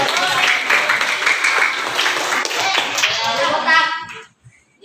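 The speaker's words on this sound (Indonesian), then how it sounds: "Oke Bu, terima kasih tepuk tangan" Children in a classroom clap together in a burst of hand claps mixed with young voices chattering, loud and close, before it cuts off into near silence.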